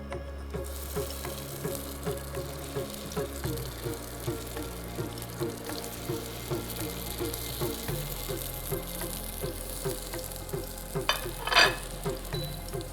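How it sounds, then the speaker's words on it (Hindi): Shami kebabs sizzle in hot oil in a pan, a steady close frying hiss with faint stirring and a brief louder splutter near the end, with no talk. "और तेल गर्म होने के बाद इसमें जो हमने शामी कबाब बनाए थे वो इसमें डाल देते हैं।"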